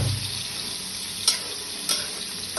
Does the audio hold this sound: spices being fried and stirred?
yes